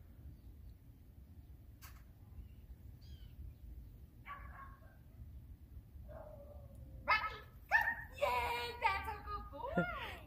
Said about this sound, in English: There's a lot of barking over there.